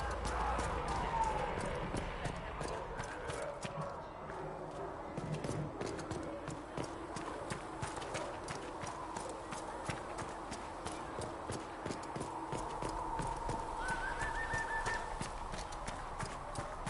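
Steady clip-clop of horse hooves in the video game Dragon Age plods on throughout, with faint voices in the background and a brief whinny-like tone near the end.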